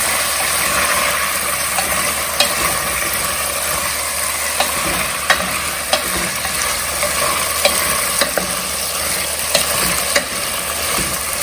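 Potatoes stirred and cooked in a pan over a low flame for Bengali aloo posto, giving a steady close sizzle with sharp spatula scrapes and clicks at irregular intervals, no voices.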